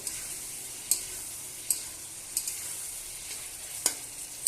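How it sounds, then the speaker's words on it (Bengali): Potatoes frying in a pan are stirred, giving a steady soft sizzle with a few sharp scrapes and clicks of a utensil spaced every second or so, close and fairly quiet, with no talking. "ভালোভাবে কষানো হয়ে গেছে আলু, আমি আরেকটু এবার নেড়ে নেব ভালোভাবে"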